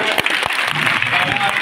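A crowd applauds to welcome Dr. Vitthal Lahane and Dr. Kalpana at an event, a brief burst of dense clapping with a few sharper individual claps standing out.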